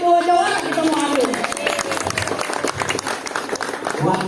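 Hand clapping and a lively crowd rise during a comedic Betawi palang pintu wedding-door performance, with steady broadband clatter and cheering throughout, mixed with voices and hubbub.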